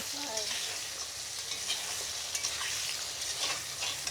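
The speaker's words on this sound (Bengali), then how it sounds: "বেগুনটা হালকা করে একটু নাড়াচাড়া দিয়ে ভেজে নেব আমার লাল লাল করে ভাজব" Brinjal pieces frying in oil in a pan while being stirred, a soft continuous sizzle broken by light scraping and stirring sounds, fairly quiet and with no talking.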